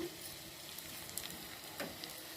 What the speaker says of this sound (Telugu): అన్నీ వేసుకొని పోపు చేసుకున్నాను నెయ్యిలో